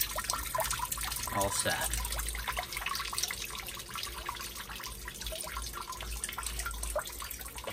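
Water running and draining on a chain sharpener, a steady trickling splash with occasional drips, close by, with someone speaking briefly over it.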